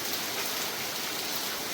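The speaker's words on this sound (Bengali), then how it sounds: "প্রচণ্ড পরিমাণ বৃষ্টি হচ্ছে" Heavy, nonstop rain pours down during a prolonged downpour, making a dense, even hiss that fills the whole stretch with no pauses and no voices.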